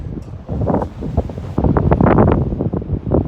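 Wind gusts hit the microphone with loud, continuous rumbling and buffeting that swells and surges, up close and with no one speaking.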